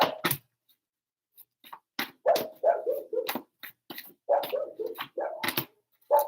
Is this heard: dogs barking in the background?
yes